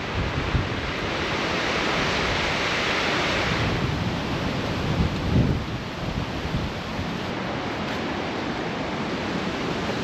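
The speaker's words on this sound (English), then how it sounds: "It's a very windy day and where I'm headed is beautiful." Strong wind on a very windy day in woodland with old beech trees: a continuous broad roar and rush of air that swells and eases, steady and loud throughout with no voices.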